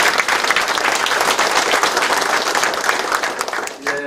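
Audience at a Korean city mayor's community town-hall meeting breaks into dense, loud applause, steady clapping throughout and tapering slightly at the very end.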